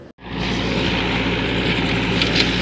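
A model 575 tractor pulling a 7-foot Shaktiman rotavator in a field, its engine droning steadily and loudly after a brief dropout at the start.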